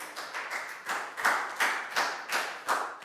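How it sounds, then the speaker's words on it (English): Children in a classroom clap together during a Year 4 math lesson, a brisk rhythmic burst of hand claps in even pulses, close and moderately loud, with no talking over it. "Big round of applause for Bangpon, please, guys."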